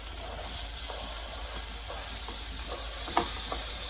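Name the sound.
ground beef sizzling in frying pan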